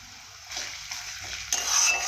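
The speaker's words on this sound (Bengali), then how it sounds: "এইভাবে ভালো করে ভেজে নেব।" Spices frying and being stirred in a hot pan for a Bengali potato dish, a steady close sizzle with scraping stirs that grow louder toward the end, no talk.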